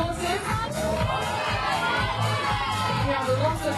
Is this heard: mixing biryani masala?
no